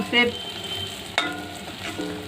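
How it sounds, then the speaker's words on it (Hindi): Colocasia leaf roll slices fry in hot oil with a soft continuous sizzle, joined by a couple of sharper clinks and spatula scrapes, fairly quiet and close. "दूसरे कतले भी इसी तरह डाल के हम फ्राई कर लेंगे"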